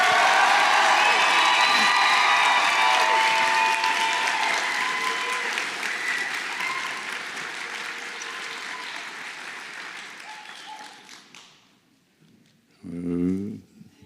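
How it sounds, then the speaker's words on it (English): A graduating class of 2026 receives a sustained round of applause at a high school graduation ceremony, dense clapping and crowd noise that slowly fades away, followed by a short spoken phrase at the end. "Can we give the 2026 another round of applause,"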